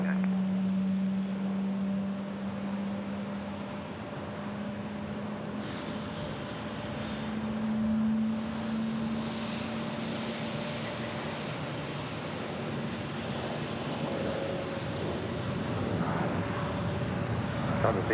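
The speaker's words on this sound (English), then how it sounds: "we check out this United Airlines flight landing here" A United Airlines plane lands at Phoenix Sky Harbor Airport, a steady, loud engine roar and whine that holds throughout, heard from a distance.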